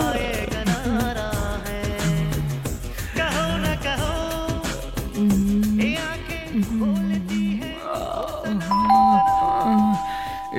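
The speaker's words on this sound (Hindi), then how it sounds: "बीच में आके कौन घंटी बजा रहा है?" A doorbell rings near the end, a clear electronic chime cutting into loud music playing in a home at night.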